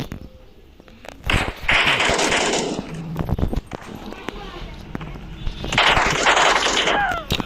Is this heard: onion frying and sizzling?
no